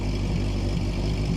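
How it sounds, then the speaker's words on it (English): A 1975 Honda CB750 motorcycle engine idling, a steady close low-pitched throb with an even rhythmic pulse, loud and unchanging throughout with no talk. "here it's just idling, just easy as you please"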